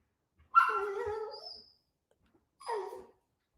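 A dog lets out two whimpering, whiny barks, close and fairly soft: the first drawn out for over a second, the second shorter after a pause, with near silence around them.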